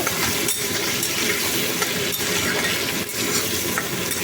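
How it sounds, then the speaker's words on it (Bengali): Potatoes with turmeric stirred in a pan, a continuous soft frying sizzle with faint scraping and a few light knocks of the spoon against the pan, with no talk. "হলুদ দিয়ে আলুগুলোকে একটু নেড়ে নেব"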